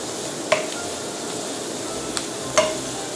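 Vegetables or batter for Vietnamese steamed rice-paper dumplings fry in a hot pan, a steady close sizzle broken by a few sharp scrapes of stirring.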